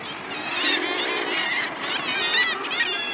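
Dense chorus of murres calling at a crowded Arctic seabird colony, a continuous mass of harsh overlapping cries, loud and close, with no talk.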